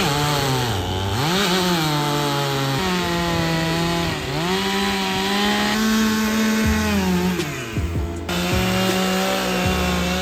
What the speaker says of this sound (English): He's starting to chunk out some logs.